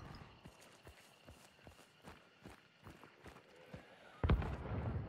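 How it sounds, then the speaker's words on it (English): Faint, irregular hoof-like clops of a distant horse in the video game Hunt: Showdown, over a low ambient hum, followed by a louder burst of noise near the end. "I think I hear a horse in the distance."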